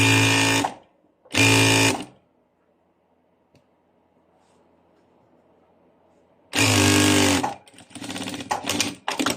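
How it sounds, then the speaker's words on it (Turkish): Sewing machine stitching the side seam of a fabric skirt: two short loud bursts of rapid mechanical chatter, a long quiet pause, then a longer close run of stitching that stutters toward the end. "Eteğimizin yandaki dikişini de dikiyoruz."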